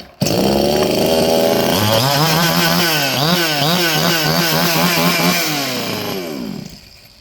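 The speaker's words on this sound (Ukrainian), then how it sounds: "тільки бери і пиляй, не встигай тільки підкладати дрова" A petrol chainsaw with a 40 cm bar roars loudly and steadily, its pitch rising and wavering as it bites into wood, then winding down at the end.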